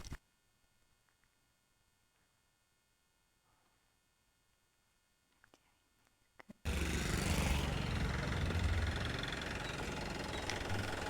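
A van engine drones steadily and loudly at close range while driving along, kicking in abruptly after a quiet stretch with a few faint knocks and clicks.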